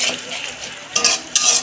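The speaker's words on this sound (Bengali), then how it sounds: "ভালো করে কষাবো।" Spices for a vegetarian cauliflower curry are stirred and fried in a pan, with soft scraping and light sizzling, then two brighter clattering spoon strokes near the end.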